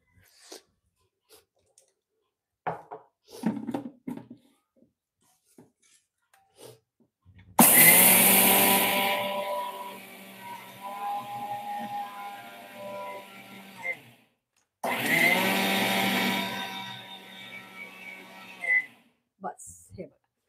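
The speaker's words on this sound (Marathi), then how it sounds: "आता मी ह्याका मिक्सराक लावून घेते" Mixer grinder powdering ingredients for laddoos, two loud whirring bursts of several seconds each separated by a pause, with short bits of talk and handling noises around them.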